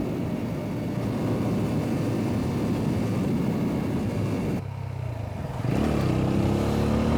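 Riding a 2020 TVS Apache RTR 200 BS6 motorcycle gives a steady loud engine drone with wind rush. It dips briefly and then rises again as the rider throttles up.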